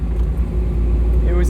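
Inside a moving 1977 Ford Bronco with off-road equipment, the engine gives a loud, deep rumbling drone while people talk over it.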